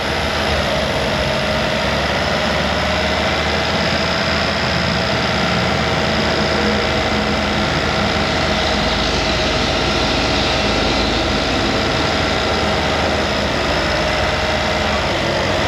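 A car engine, one with a misfire in a Ford Escape, held at raised idle around 1500 to 2000 RPM by a throttle stop tool in a repair shop: a loud, steady, unbroken drone heard close up for about fifteen seconds, with no talking.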